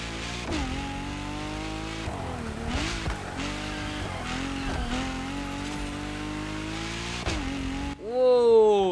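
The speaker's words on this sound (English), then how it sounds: "Oh, I do love the acceleration sound in this," A car in the racing game Motorfest accelerates through its gears with a swapped exhaust, a loud, sustained engine roar rising and dropping at each shift, then a sharp tire squeal at the end.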